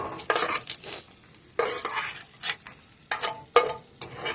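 Ghee-fried cashews are scooped out and transferred to another bowl, with a series of sharp metal spoon scrapes and clinks against the pan and bowl, irregular and close, over a faint background sizzle.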